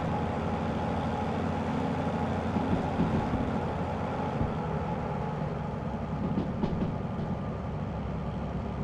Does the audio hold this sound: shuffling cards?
no